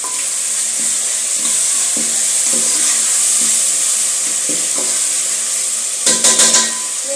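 A cooking stick stirs chicken sizzling in a pan: a steady, close frying hiss with soft scraping strokes, ending in a brief burst of louder clattering.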